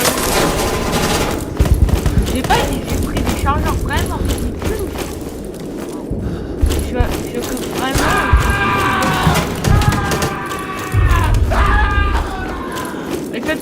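Gunfire in a Roblox shooting game, bursts of rapid automatic shots and single cracks scattered through, with players talking over the action.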